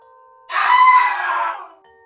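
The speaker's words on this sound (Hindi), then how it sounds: "उसकी चीख गूंज उठी।" A man's scream rings out as a horror-story effect, a single sharp cry held for about a second and then fading, loud and alone against near silence.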